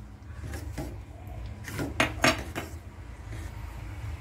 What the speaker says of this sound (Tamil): ஏலக்காய் பொடி சேர்த்து நல்லா கிண்டி விட்டுட்டே இருக்கணும்.